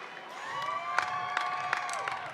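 Crowd applause and cheering at a university commencement on the field of Carter-Finley Stadium, a steady wash of distant claps with whoops and a few sharper shouts rising over it.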